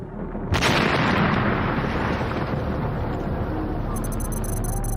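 A 2,000-pound truck bomb detonates at the American embassy: one sudden, loud, deep blast that breaks into a long, roaring rumble and debris noise, with a high steady whine rising above it near the end.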